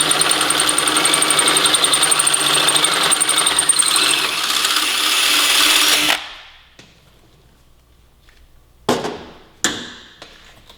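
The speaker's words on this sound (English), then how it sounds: "We're going to switch bits and drill 7/16." A power drill bores a 7/16 hole while fitting a Woodcraft toe guard to a Yamaha R3 sportbike, a loud steady whir for about six seconds that stops abruptly, followed by a few sharp clicks and knocks of handling.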